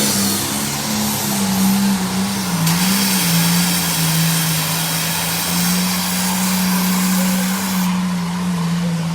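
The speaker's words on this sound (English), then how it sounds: "Now that was Jason Barker on the Rhapsody in Blue tractor" A pulling tractor at a tractor pull, the Rhapsody in Blue, roars loud and close in a sustained, revving drone that rises and settles slightly but never stops.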